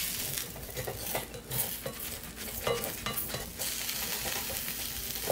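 A grilled cheese sandwich sizzles and crackles in a hot skillet, a steady close frying hiss with a few light clinks of utensils against the pan.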